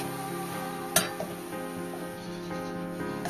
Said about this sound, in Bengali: এ দেখো আমার মোচা একদম রেডি নারকেল দিয়ে একটু কষালাম